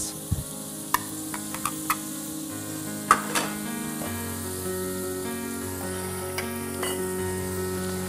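Onions frying in a pan for taro with tahini, a steady sizzle with a few small ticks and pops over a held background tone.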